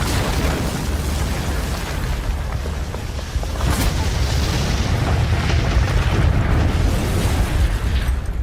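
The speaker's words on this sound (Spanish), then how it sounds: "Una gran explosión envuelve el puente" A massive, sustained roar of demolition charges blowing apart a bridge, loud and dense, with continuous rumbling and debris noise that swells partway through and stays heavy to the end.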